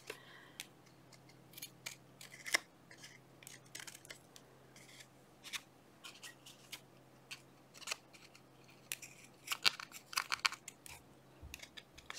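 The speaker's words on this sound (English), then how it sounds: "let's try to cut this in some sort of shape resembling the heart here" Scissors snipping through a book page into a heart shape, a string of close, crisp irregular cuts and paper rustles in a quiet room.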